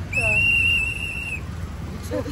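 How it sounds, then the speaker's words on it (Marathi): An auto-rickshaw driver's whistle gives a single sustained, shrill blast lasting about a second, loud and close over steady street background noise in Pune. "रिक्षावाल्या काकांनी स्वतःची शिट्टी ठेवली आहे."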